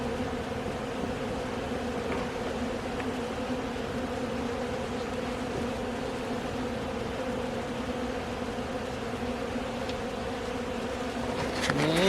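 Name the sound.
honey bees buzzing during hive inspection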